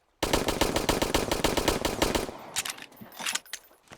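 Rapid automatic fire from the GP20 gun in the video game Sunkenland, a dense string of loud, close shots for about two seconds, then a few scattered clicks and rattles as the burst ends.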